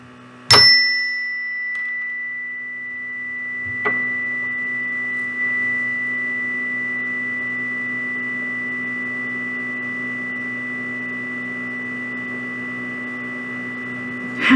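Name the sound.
chime ringing and fading away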